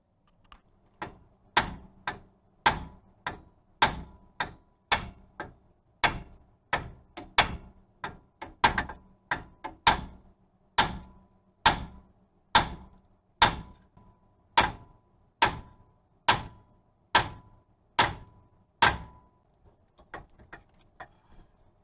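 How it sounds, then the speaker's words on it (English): Steady run of about two dozen metallic hammer taps on the steering knuckle of a 2002 VW Jetta during front suspension work, evenly spaced and close, with a few quicker taps at the end. "just give this knuckle a couple taps, and that should come right off there"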